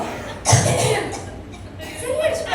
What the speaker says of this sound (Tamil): திடீர்னு எனக்கு இருமல் வருது